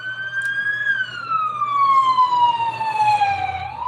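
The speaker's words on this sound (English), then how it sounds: "I hear sirens outside" A wailing fire truck siren sweeps slowly down in pitch, steady and fairly close, with a low engine rumble underneath.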